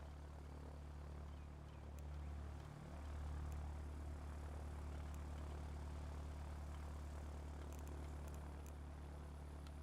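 Bristol Blenheim aircraft engines droning steadily on a runway in the airfield game Ground of Aces, a low continuous propeller hum that swells slightly partway through, no talking.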